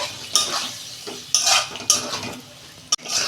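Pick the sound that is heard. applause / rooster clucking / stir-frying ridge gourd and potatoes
stir-frying ridge gourd and potatoes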